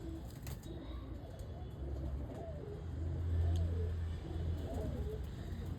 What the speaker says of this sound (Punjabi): ਇਹ ਕਬੂਤਰੀ ਨੰਬਰ 2 ਜਿਹੜੀਆਂ ਮੇਨ ਵੱਡੀਆਂ ਬਰੀਡਿੰਗ ਵਾਲੀਆਂ ਕਬੂਤਰੀਆਂ